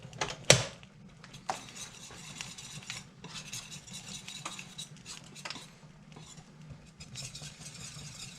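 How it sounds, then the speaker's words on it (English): Sauce whisked in a pot with melting chunks of cheese, a sharp metal clink at the start, then quiet, steady scraping and tapping of the whisk against the pot under a low hum. "keep whisking away here, it'll be fine"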